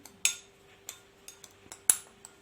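Small spoon stirring a remedy with olive oil, producing a few sharp metallic clinks against a bowl or cup, irregularly spaced in near silence.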